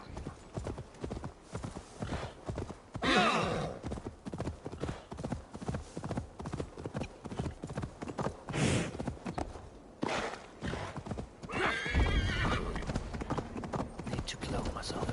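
Rhythmic clip-clop of horse hooves walking steadily, with a brief whinny and some whooshing, all over background sounds from Assassin's Creed Valhalla and occasional talk.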